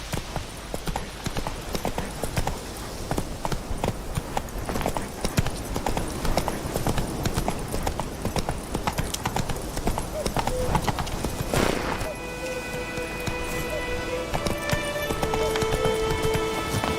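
Hooves of Roach, Geralt's horse in Witcher 3, clattering in a fast steady gallop, close and continuous, with a voice speaking partway through over the hoofbeats.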